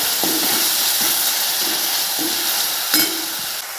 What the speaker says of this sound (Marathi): एक चम्मच अद्रक लसूण आणि कोथिंबीरचं पेस्ट सारा आपल्याला तेलामध्ये फ्राय करायचं आहे